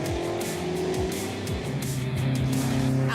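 A Ford GT40 race car racing at Kyalami, its engine note rising and dropping through repeated gear changes with sweeping pitch shifts, loud and close, joined near the end by a second engine climbing in pitch.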